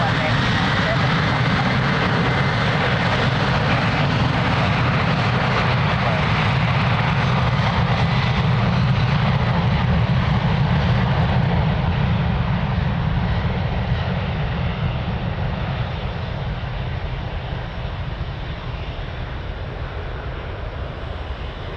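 A jet airliner takes off from runway 02 at Lisbon Airport with a loud, sustained engine roar that slowly fades as it climbs away. Radio chatter is faintly audible underneath.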